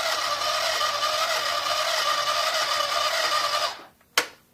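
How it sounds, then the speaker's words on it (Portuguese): A sewing machine runs a long, steady straight seam with a continuous buzzing drone that stops near the end. A single sharp click follows. "vamos reto com costura reta até o fim"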